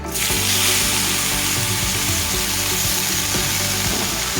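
Chopped ash gourd goes into hot oil in a pan, setting off a sudden loud, broadband hissing sizzle that holds steady and close throughout.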